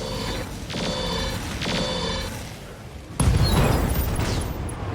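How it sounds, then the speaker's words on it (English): Ammunition explosion in the Roguetech mech game: mechanical clanking and ratcheting bursts give way to a sudden loud boom with a rumbling, crackling tail. "That was an ammo explosion."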